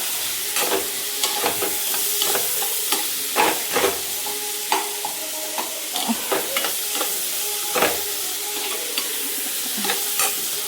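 Tomato, onion and ginger garlic paste fry in a pan for paneer kadai. A close, crackling sizzle runs throughout, with repeated spatula scrapes and knocks as the mixture is stirred, and no talking.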